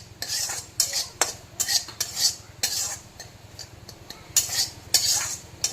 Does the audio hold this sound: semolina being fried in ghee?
yes